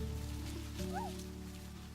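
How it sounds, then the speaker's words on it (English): Rain falling in the video game Niche, a soft steady patter under a low musical drone with a short chirping tone in the middle. "Yes, it's raining again."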